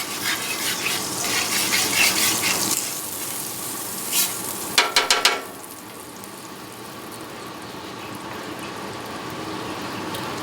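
Butter and oil sizzle as they are stirred on a Griddle Master Top griddle, a bright, close frying hiss with scraping strokes that fades to a quieter steady sizzle, with a few sharp clicks in the middle.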